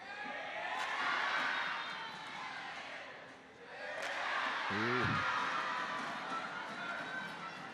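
Crowd noise swells and falls at a badminton mixed doubles match between Indonesia and the Philippines, a broad roar that rises twice beneath steady commentary from a nearby voice.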